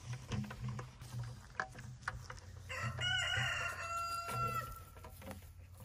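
A rooster on an Ohio farm where maple trees are being tapped lets out a long, loud crow in the middle of the clip, with a few clucks and rustling outdoor noise around it.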